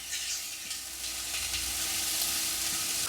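Diced leeks and onion sizzle steadily in a pan while being stirred, a continuous close frying hiss with soft scraping strokes throughout and no voices.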